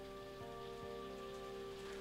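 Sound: loud rain

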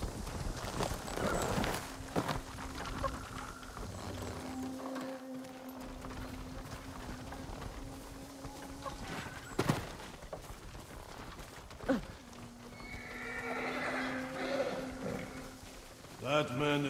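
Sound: horses galloping and neighing in Ghost of Tsushima video game

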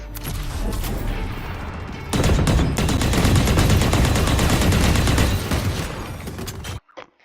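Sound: gunfire in a video game

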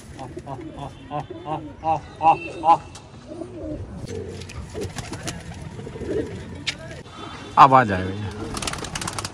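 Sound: pigeon cooing and landing at a pigeon race

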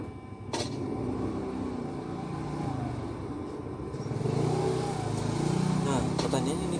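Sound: motorcycle passing by outside

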